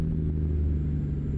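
Steady low diesel rumble of a Kenworth W900 truck engine in American Truck Simulator, a continuous droning hum with no talk.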